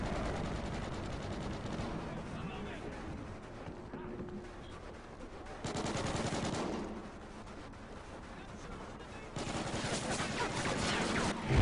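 Rapid automatic gunfire rattles in a video game, with several bursts of machine-gun fire and heavier volleys through the stretch and a voice talking over parts of it.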